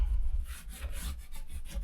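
Continuous close rubbing as a leather book hinge is pressed and worked into place during restoration of an old missal, a dry scraping friction with slight pulses and no voices.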